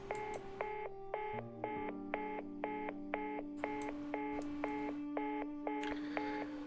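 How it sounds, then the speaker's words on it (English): A telephone line tone after a call ends in the game Reverse: 1999: a steady run of evenly spaced electronic beeps in quick, regular pulses over a faint low hum, with no voices. "The phone call ends."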